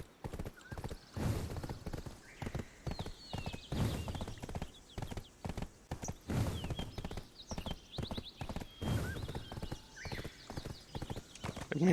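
A horse gallops in the online role-playing game Black Desert, its hooves beating a steady, fast clip-clop rhythm for the whole stretch, with an occasional whinny and no talk over it.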